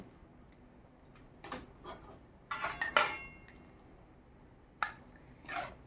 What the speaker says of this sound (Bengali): এটা গ্যাস বন্ধ করে কড়াই থেকে উঠিয়ে নেব